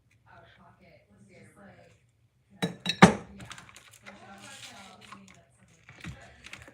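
Ice cubes clink sharply against a coffee glass in a short burst of bright knocks, followed by lighter rattling, with a person talking quietly before and after.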